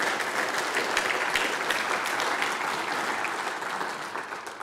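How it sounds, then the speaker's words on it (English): Sustained audience applause for the mayors at a city State of the City address, a steady dense wash of clapping that holds loud throughout and eases slightly toward the end. "Could we have a round of applause for"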